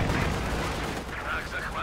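Anti-tank gun fire in the Company of Heroes 2 game, a dense rumbling barrage of booming shots filling the whole moment, loud and continuous, with faint higher tones flickering toward the end.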